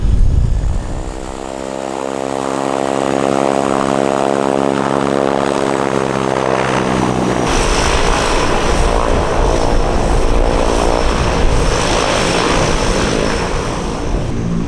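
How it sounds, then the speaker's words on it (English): A twin-engine Piper propeller airplane engine cranks and catches, its rising drone settling into a loud, steady roar that fills the whole recording, with no voices. "How long does it take to start a twin engine Piper?"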